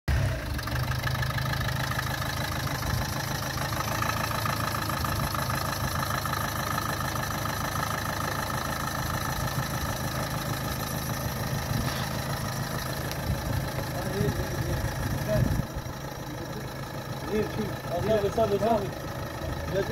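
Dacia Duster 4x4 engine idling steadily after a start, a constant low rumble running nearly throughout, with people talking over it.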